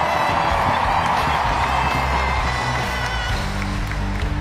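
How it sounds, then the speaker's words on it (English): A stadium crowd at a USWNT versus Mexico women's soccer match applauds and cheers through starting-lineup introductions, a dense, steady roar of distant clapping and voices without pause. "Keep that applause going for number 16, Rose Lavelle"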